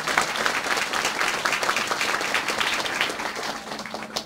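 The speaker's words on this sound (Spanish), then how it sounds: "Fuertes aplausos." An audience claps loudly and steadily at a drinking-water inauguration in a village sector, a dense continuous round of applause close by with no talk over it.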